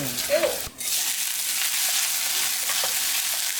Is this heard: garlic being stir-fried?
yes